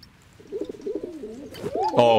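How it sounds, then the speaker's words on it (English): Pigeons cooing in the video game Tom the postgirl, several low, warbling coos in a loose rhythm, with a person talking over them near the end. "Pigeons."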